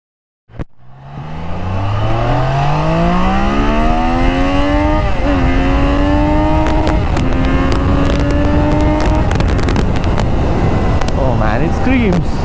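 A Triumph Daytona 660 motorcycle starts and revs hard, its engine pitch climbing loudly through several rising sweeps with brief dips between gear changes, close and dominant, with a voice audible underneath.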